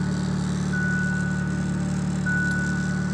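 A turbocharged car with boost raised to 16 psi idles steadily up close, a smooth continuous engine hum with a faint high whine running over it.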